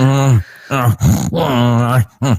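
A voice imitates the moaning noises someone makes while sleeping, a series of drawn-out, loud, close groans with short pauses between them.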